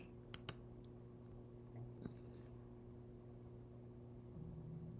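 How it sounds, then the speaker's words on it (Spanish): Two quick, faint computer mouse clicks, pressing a save button, sound close together against a quiet room with a steady electrical hum. "dar clic en el botón Guardar"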